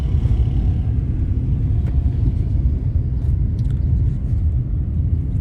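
Tata Tiago hatchback creeping along in third gear at about 20 km/h with no accelerator pressed, a steady low engine and road rumble heard from inside the cabin, with no talking.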